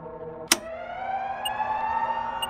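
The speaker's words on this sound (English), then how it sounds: "Shit, the alarm went off." An alarm goes off in a horror video game: a sharp click, then a sustained wailing electronic tone that slowly rises and holds, fairly loud with faint background noise and no speech.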